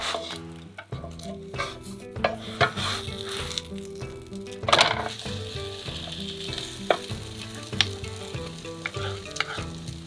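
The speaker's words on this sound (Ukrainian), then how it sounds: "І смажимо на повільному вогні 5 хвилин." Lavash pizza sizzles steadily in butter in a frying pan over low heat, with faint scattered crackles and light clinks throughout.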